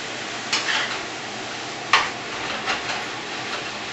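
Pasta being stirred with melted cream cheese in a pot, giving a few soft scraping and clinking stirs over a low steady background hiss.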